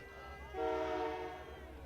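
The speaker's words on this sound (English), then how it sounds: "I'm going to put this down on mute for a minute while the train honks by." A train horn sounds in the distance at a boys high school soccer playoff game, a steady multi-tone blast swelling up midway and holding under the faint ambient crowd noise.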